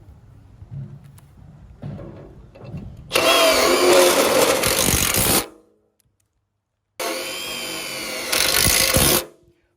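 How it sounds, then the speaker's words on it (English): Power drill driving screws into a wooden deck stringer, two loud whirring bursts of about two seconds each, separated by silence, after some quieter handling knocks. "Then throw a couple extra screws in so it doesn't pivot anymore."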